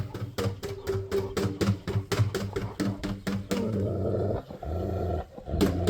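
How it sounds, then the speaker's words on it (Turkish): A neighbour's dog growls in a rapid rhythmic series of rough pulses, then shifts into a sustained continuous rumble, close and fairly loud. "O Cem'in köpeği ya."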